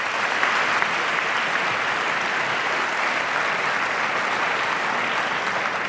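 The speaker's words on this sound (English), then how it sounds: "give yourself a round of applause" Dense, sustained applause fills a university hall at a presidential debate, an even, unbroken roar of many hands clapping at once with no pauses or talking.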